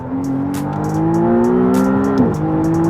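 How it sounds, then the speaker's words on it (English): A McLaren Artura plug-in hybrid 3.0 V6 supercar revs up with rising pitch through a gear, briefly drops, then climbs again, loud and close with no voices. "It's just immediate performance, very, very sharp throttle response, and it makes a good noise as well"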